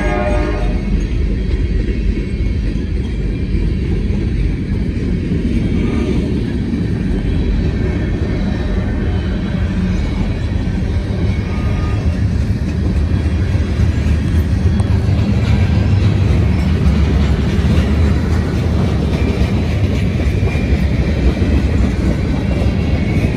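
A short Norfolk Southern freight train passes near a grain elevator in Circleville, Ohio, with a loud, continuous rumble and clatter of cars close by throughout, no talk.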